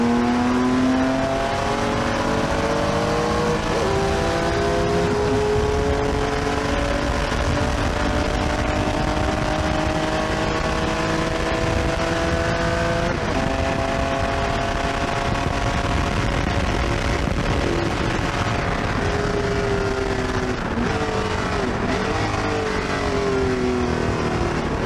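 A race car on the Road America circuit at full throttle on brand-new tires, its engine climbing and shifting through rising harmonic sweeps, loud and close throughout with no voices.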